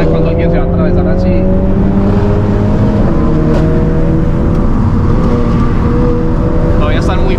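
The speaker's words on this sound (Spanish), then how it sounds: "Ese carro no suena tan duro, pero suena chimba" A car engine hums loudly from inside the vehicle during a street race in Colombia, with steady low drone and shifting engine tones, sustained and close, with faint voices over it.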